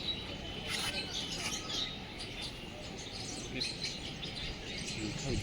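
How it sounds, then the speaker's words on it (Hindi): Small captive birds chirp and tweet in short scattered calls at a Buddhist stupa site in Sarnath, moderately near over a steady outdoor background, with faint speech at times. "ये कौन सा पक्षी है,"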